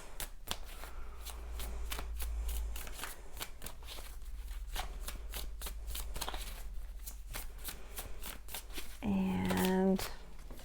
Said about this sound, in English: Now I'm going to pull an extra few clarifying cards for the energy that you're working with.